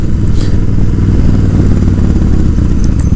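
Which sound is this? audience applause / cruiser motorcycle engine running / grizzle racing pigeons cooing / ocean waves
cruiser motorcycle engine running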